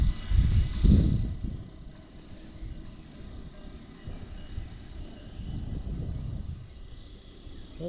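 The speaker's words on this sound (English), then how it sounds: "So the cog's in the middle of the track, that's what the motor's running off of." A cog railway train on the Swiss Alpine line from Lally down to Vevey rumbles along a rack track, its low mechanical drone loudest at the start, fading, then swelling again as it passes at moderate distance.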